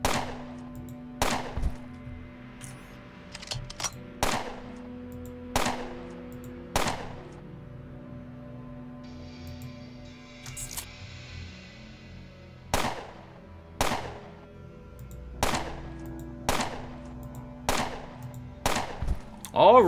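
Gunfire in the video game Underrail comes as sharp single shots spaced a few seconds apart, loud and close, with faint game ambience between them.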